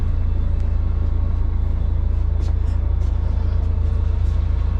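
A bus travelling from Ho Chi Minh City to Phnom Penh rumbles with a steady, loud low engine drone and road noise throughout, with occasional faint rattles and hisses from the cabin.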